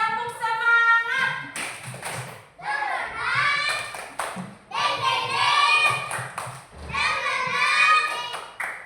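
Children in an Indonesian classroom perform the tepuk semangat spirit clap, a quick rhythmic pattern of hand claps and taps mixed with chanting young voices, close and lively, with a teacher's voice nearby.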